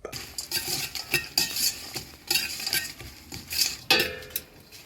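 Onions with cumin and other spices are stirred as they fry in a pot: repeated scraping and clinking strokes of a utensil against the metal in irregular bursts, with a soft sizzle underneath.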